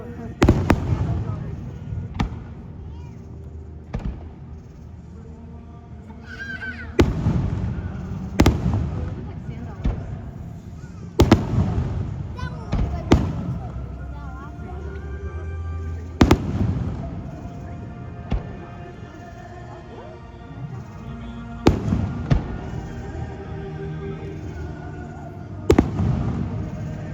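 Fourth of July fireworks at SeaWorld San Antonio: booming bursts go off repeatedly at irregular intervals, some sharp and loud, some more distant, with crackling tails and crowd chatter between shots.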